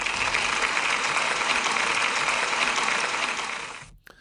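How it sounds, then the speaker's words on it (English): Applause from a school celebration assembly: a steady, close wash of many hands clapping for about four seconds, then cutting off abruptly. "can we give him a big round of applause, please?"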